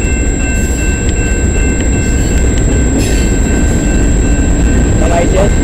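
CN freight train CNM396 passing on the Dundas Subdivision in London, Ontario: a loud, close, continuous rumble of railcars rolling by, with faint wheel squeals.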